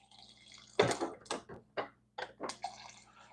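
Water is poured into a glass of ice in a home kitchen, a series of short splashing, trickling bursts close by and fairly quiet, without any speech.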